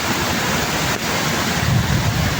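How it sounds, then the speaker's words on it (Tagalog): Floodwater rushing down a road, a loud continuous broadband roar with wind buffeting the microphone, close and steady without speech. "Tapos puro tubig ang umaagos. Lalo na dito sa daan."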